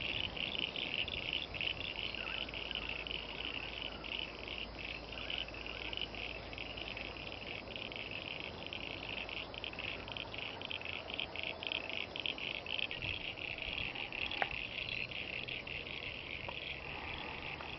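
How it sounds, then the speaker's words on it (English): Frogs and insects calling in a swamp, a continuous high, rapidly pulsing chorus with scattered croaks, steady and moderately faint with no voices over it. "Let's listen to them, the frogs."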